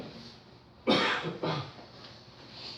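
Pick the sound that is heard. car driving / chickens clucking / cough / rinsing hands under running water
cough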